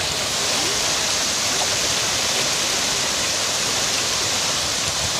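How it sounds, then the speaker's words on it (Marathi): Water pours over a small stone-reinforced weir, giving a steady, loud rushing roar that stays constant throughout with no voices. "असा आहे बंधारा आणि इकडे असं पाणी जातो"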